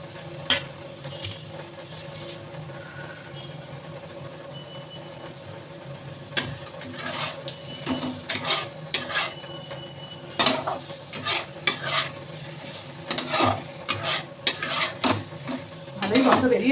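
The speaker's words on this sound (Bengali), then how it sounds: "তো দিয়ে দিলাম এবার আলু পটলগুলো।" Potatoes and pointed gourd frying in a pan, with a steady low sizzle beneath repeated clinks and scrapes of a metal spoon stirring against the pan, the stirring growing busier and louder toward the end.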